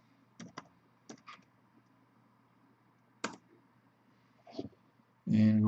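Short bursts of typing on a computer keyboard, with a few separate clusters of clicks over a low background hum, ending in a louder burst of noise.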